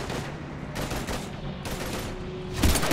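Rapid bursts of gunfire in the sci-fi shooter Mass Effect 3 during a firefight against husks, loud repeated volleys with no talking.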